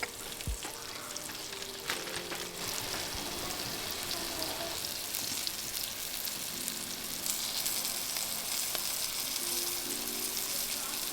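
Thin chicken cutlets fry in a small pan, giving a steady, close sizzle that fills the whole stretch with faint crackles and small clinks, and no talking.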